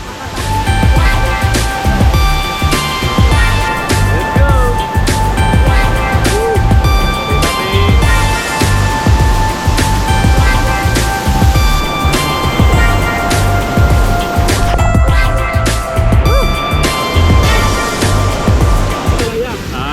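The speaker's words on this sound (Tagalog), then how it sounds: "We're now here at Lugnason Falls." Lugnason Falls waterfall on Siquijor island gives a loud, steady rushing roar of falling water that continues unbroken for the full length.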